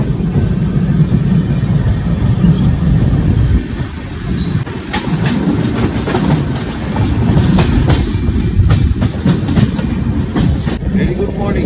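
The Kanchankanya Express passenger train runs on rails between Dalkhola and Kishanganj, heard from on board as a loud, continuous low rumble with rhythmic clickety-clack from the wheels and brief metallic squeals.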